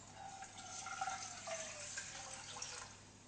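Water runs steadily into a pot, a faint trickling pour with a gentle rising pitch as it fills, heard alone at low volume.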